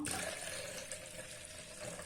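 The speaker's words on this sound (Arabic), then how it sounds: "نزيد الماء،" Water is poured into a container over lemon peels and sugar for lemon sharbat, making a steady, close-up rushing and splashing stream.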